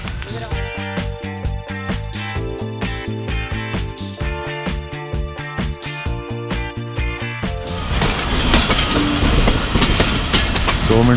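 Jaffar Express train pulling out of Gujranwala station in Punjab, Pakistan, with music playing over the first part before a loud, steady rolling rumble of the carriages swells and dominates near the end.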